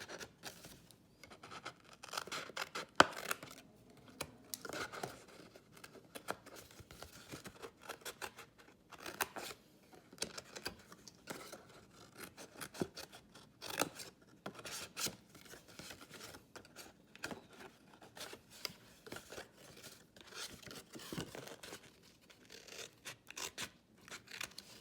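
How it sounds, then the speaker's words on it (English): Scissors snip away paper pieces along score lines while a faceted bauble is being made, a steady run of close, crisp cuts and rustling paper with no talking. "And then cut away anything with a score line."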